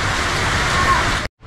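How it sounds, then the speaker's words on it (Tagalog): Heavy rain and strong wind roar as one dense, loud wash of noise close by, then the sound cuts off abruptly near the end. "palakas ng palakas ang hangin. Kaya ang ulan, di tumitigil."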